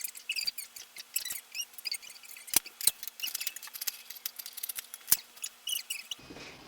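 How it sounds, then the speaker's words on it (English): Scissors snip through fabric while a kangaroo pocket is cut for a shark hoodie costume, giving a steady run of crisp, close, quiet clicks and slicing swishes with no talking. "I'm gonna cut the kangaroo pocket."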